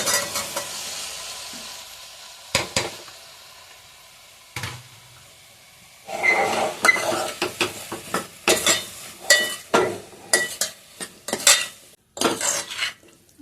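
Potatoes and peas are stirred into masala in a pan, giving brisk, close scraping and clinking spoon strokes in irregular bursts over a light sizzle, with a quieter stretch before the stirring picks up.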